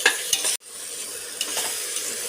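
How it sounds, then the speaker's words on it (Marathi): Tomatoes and masala roast in a pan, a close, loud hissing sizzle with a few scraping stirs, cut by a brief sudden drop to near silence before the frying noise resumes steadily. "आणि आता मी हे टॅमॅटो आणि हा जो मसाला आहे ना तो याच्यामध्येच आता मी भाजणार आहे"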